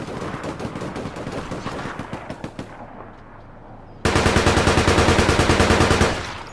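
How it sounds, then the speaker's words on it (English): Rapid automatic gunfire in the online shooter game APB Reloaded, with steady loud bursts of repeated shots, a short quieter lull, then a sustained, even louder stream of rapid fire near the end. "there's a guy literally behind you shooting at me"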